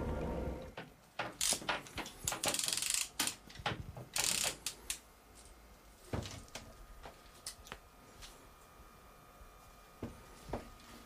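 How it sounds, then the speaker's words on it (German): Fishing reel ratchet drag clicking while catfish angling, fast bursts of close mechanical clicks and rattles that come in uneven waves and then thin out to sparse ticks. "Beim großen 2 Meter Wels hast du also, die Ratsche schon ziemlich stark eingestellt."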